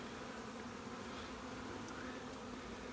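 Honeybees hum in a hive box, a steady dense buzzing drone close by, with a few individual bees whining past, and no talking.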